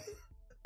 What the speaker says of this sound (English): Tom, that sheep has a smoker's cough.